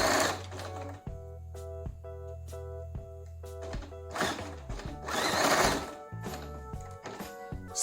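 A sewing machine stitches fabric in short close bursts, its needle whirring rhythmically, starting and stopping several times with soft handling clunks between runs.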